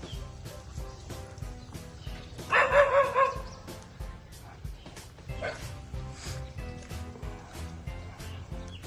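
A dog barks repeatedly at cows in rural southern Laos, sharp close barks in a short burst over a quiet outdoor background, with a few scattered voices nearby.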